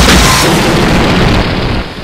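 In a fan-made Eggman boss-rush video game, a loud, heavy explosion booms and rumbles for about two seconds, then tapers off toward the end.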